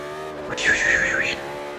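Race car in Forza Motorsport 5 driving hard: a steady engine drone with a brief high tire squeal rising and falling for under a second, with a voice speaking quietly over the car noise.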